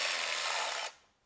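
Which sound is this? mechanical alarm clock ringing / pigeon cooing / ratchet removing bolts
ratchet removing bolts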